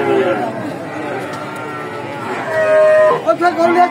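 Cattle at a busy livestock market give a drawn-out moo followed by another louder, close call, heard among crowd chatter and people talking.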